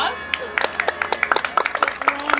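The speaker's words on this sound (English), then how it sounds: "a round of applause." Audience applause at a steampunk event in Mount Dora, Florida, a short burst of scattered hand claps rising after a moment of crowd noise, fairly close and mixed with background chatter.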